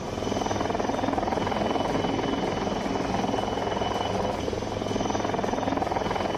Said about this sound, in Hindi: एक्सरसाइज के दौरान चंद मिनटों में सेना के हेलीकॉप्टर वॉर जोन में पहुंच गए।